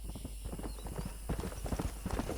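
Horse hooves clip-clop steadily and close by as a stallion trots in the Western video game Red Dead Redemption, a quick, even rhythm of hoof strikes with no voices over it.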